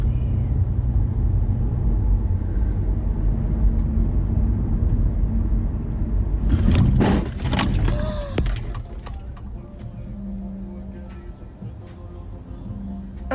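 Steady low engine and road rumble inside a moving car, with a burst of rattling and clatter partway through before the drone continues more quietly.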